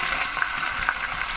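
Katla fish head frying in hot oil, a dense continuous sizzle and crackle with small bursts of spitting, close and steady, no talk.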